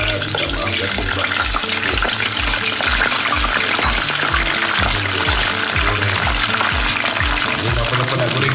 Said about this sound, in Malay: sekarang ni kita nak goreng pula